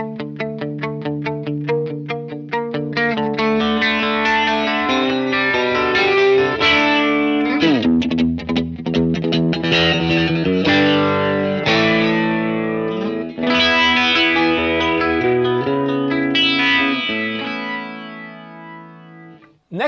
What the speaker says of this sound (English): This is the flanger and reverb now.